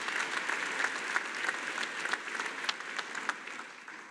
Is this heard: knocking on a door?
no